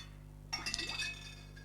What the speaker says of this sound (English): Becky, would you like to put your glass in the water?